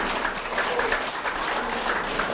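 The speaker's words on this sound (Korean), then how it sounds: "이제 박수 그만 치셔도 돼" An audience at a tax lecture claps with tensed palms, giving a steady, fairly even patter of hands at moderate loudness with slight swells, no voices over it.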